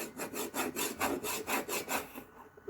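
Something being rubbed by hand onto a homemade Halloween craft sign, a steady run of about ten brisk, even rubbing strokes, close and alone.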